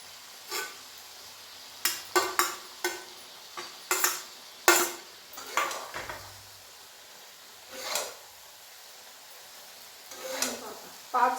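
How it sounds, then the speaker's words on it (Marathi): Fried soybeans stirred into water in a pan for soybean bhaji, a spoon scraping and clinking in short separate bursts against quiet gaps, close and moderately loud with no talk. "थोडं असं हलवायचं आणि मग हे जे आपण सोयाबीन तळून घेतलेत ना ते टाकायचे त्याच्यात"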